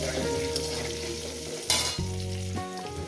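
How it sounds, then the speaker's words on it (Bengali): New potatoes fry in oil in a pan for a tangra fish curry, a steady close sizzle with stirring scrapes and a brief louder burst midway. "আলুগুলো আমি সুন্দর করে প্রায় 6-7 মিনিট ধরে আলুগুলো আমি সুন্দর করে ভেজে নেব।"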